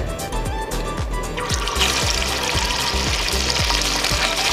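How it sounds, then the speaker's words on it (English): Fish frying in hot oil at a street food stall, a dense, loud, continuous sizzle with rhythmic thumping from nearby cooking work running underneath throughout. "Now he's frying fish, and at the same time he's making crab cutlets."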